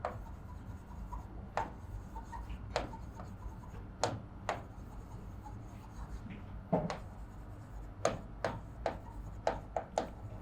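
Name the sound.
writing a notice by hand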